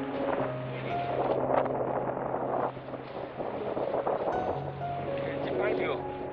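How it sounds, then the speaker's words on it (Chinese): Rough sea waves and gusting wind along the rocky shore of a fishing harbour, a steady broadband wash roaring close to the microphone with wind buffeting, and a low engine-like hum underneath. "今天海浪真粗"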